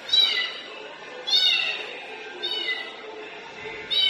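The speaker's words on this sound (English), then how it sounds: "Look at the kittens." Several kittens at an animal shelter meow in repeated high-pitched calls, four clear bursts spaced about a second apart, close and fairly loud over a low background murmur.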